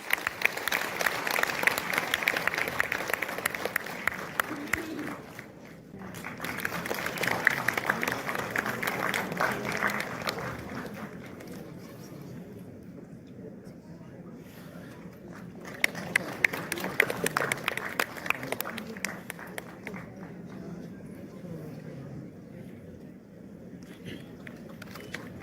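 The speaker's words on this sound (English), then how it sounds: "let's welcome them with a big round of applause again." Audience applause at a national occupational therapists' conference, a steady dense clapping that swells, dips briefly around the middle, and returns before fading, heard fairly close with some murmuring in the hall.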